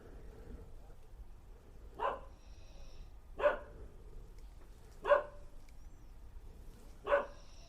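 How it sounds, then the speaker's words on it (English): One dog barks four separate times at an even pace, each bark short and moderately distant against a quiet background. "That's the sound of one dog barking."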